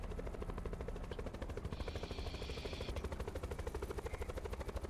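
A helicopter flies in the video game Blackout, its rotor thudding in a fast, regular pulse that stays fairly faint and distant, with no voices.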